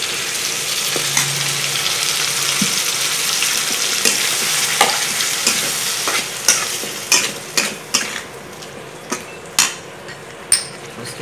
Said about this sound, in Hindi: इसका ये पेस्ट को डाल दूँगी पहले।